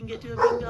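Dogs bark and yip in short bursts behind a person talking indoors, with a couple of sharp, fairly close barks and whimpery yips.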